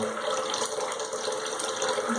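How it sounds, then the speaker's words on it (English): Running water splashes steadily in a sink as a man wets his face and beard before a safety-razor wet shave; a close, continuous gushing wash with no talk. "I'm going to put a little bit more water on my face."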